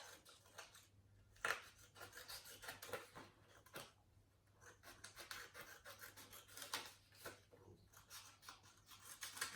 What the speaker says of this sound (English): It originated from a box, but it's cardboard, and I'm going to go ahead and cut this out.